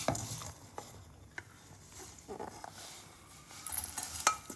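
Ghee being stirred into flattened rice (aval) in a pan with the stove off: soft scraping and patter of a spoon through the flakes, with faint clinks and a light sizzle, close and quiet.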